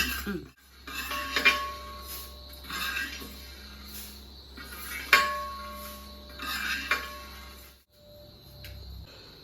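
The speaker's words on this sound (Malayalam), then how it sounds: "ഇപ്പോൾ നമ്മൾ കോരി എടുക്കുകയാണ്, തണുക്കാൻ വേണ്ടി മാറ്റി വെക്കുകയാണ്" A metal spoon scrapes and clinks against a pan while roasted spices for sardine pickle are scooped out, several distinct close clinks and scrapes spaced across a quiet kitchen.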